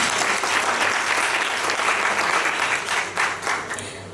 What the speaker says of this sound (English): I think you can give us a round of applause.